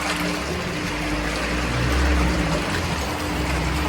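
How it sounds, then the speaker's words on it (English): The water pulse disperser of a 500L emulsifying mixer for cosmetic creams and lotions runs with a loud, steady watery churning and pump-like rumble, alone without talk. "And you can check the water pulse disperser."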